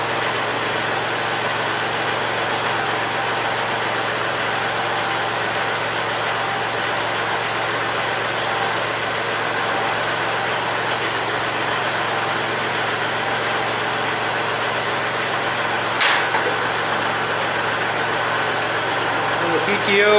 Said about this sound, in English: And the PTO pump is running now.